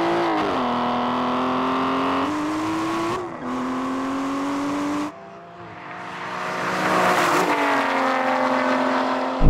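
Aston Martin Valkyrie, Vanquish and V12 Vantage engines roaring in a drag race, loud sustained revving that climbs and drops with each gear shift, a short lull mid-way, then another strong acceleration build; no speech.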